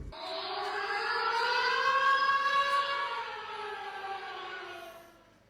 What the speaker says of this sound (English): I just got out of the shower and cue the rocket sirens